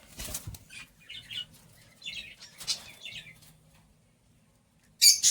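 Cockatiels in a breeding box flap their wings in several quick fluttering bursts, close by, then a pause before a final loud flurry of wingbeats.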